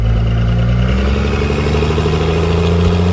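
A car with a 47RH/47RE/48RE automatic transmission and manual valve body drives on a road test in first gear, its engine droning loud and steady with a low rumble that shifts in pitch as it pulls.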